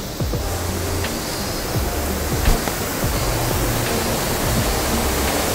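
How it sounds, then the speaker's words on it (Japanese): A mountain river flows strongly toward a waterfall near a hillside residential area on a rainy day, making a loud, steady, close rushing roar with no voices. "もうすでに川の流れがすごいですね"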